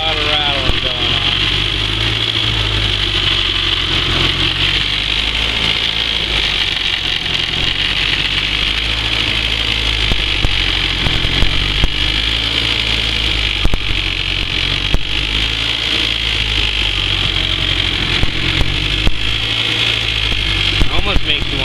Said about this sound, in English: Got a lot of rattling going on.